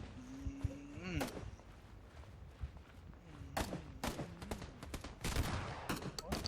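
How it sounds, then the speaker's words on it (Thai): Gunshots ring out in PUBG as scattered sharp cracks and quick bursts, some close and loud, others farther off, mixed with footsteps and excited talking. "มันยิงมันยิง"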